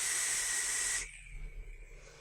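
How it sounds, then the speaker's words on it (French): Clapton coil in a Surric X vape: a loud bright hiss that cuts off sharply after about a second, leaving faint crackling and low rumble. "le Clapton, hein, il chauffe encore. Ça crépite."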